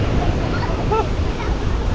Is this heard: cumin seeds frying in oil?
no